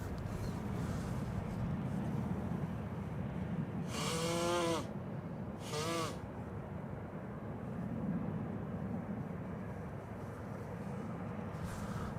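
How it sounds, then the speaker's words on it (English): A Finnair Airbus A350 airliner sits in the background at Amsterdam Schiphol Airport, heard as a steady, broad jet roar, with two short tonal squeals cutting through the drone. "Finnair A350 in the background."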